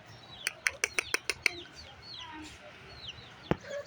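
Free-range desi chickens beat their wings in a quick burst of about six sharp flaps, followed by scattered soft clucks and a single final thump, close and fairly clear.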